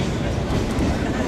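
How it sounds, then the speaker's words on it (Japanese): Sagano Scenic Railway train rolling along its rails in a steady, loud, continuous rumble with a low-end roar and a faint clatter, heard close up from on board. "列車トンネルにね入ります。"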